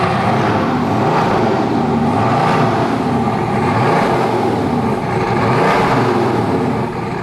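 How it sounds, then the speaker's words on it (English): Bugatti Veyron engine on a cold start, its exhaust roaring loud and steady throughout, a deep continuous drone with slight swells in revs and no voices over it. "let's have a listen to a cold start. That's loud."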